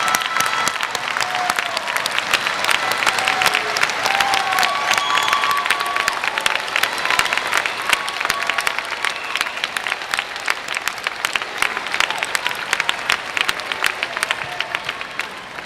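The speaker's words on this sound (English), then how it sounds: "And now, give your family a rousing round of applause." Graduates at a law school commencement give their families a rousing ovation, a loud, sustained crowd clapping for over fifteen seconds with scattered cheers mixed in.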